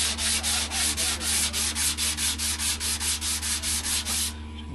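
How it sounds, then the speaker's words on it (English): Sanding on a cherry wood replacement part for a boat at a workbench, a loud, close, rhythmic rasp of about sixteen even back-and-forth strokes over a low steady hum, stopping near the end. "doing a bit more sanding on one of the replacements for the"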